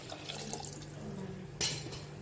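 Water pours steadily into a cooking pot holding one and a half cups of rice with spices, about four and a half cups in all, a soft, close trickle and splash with a brief louder gush near the end.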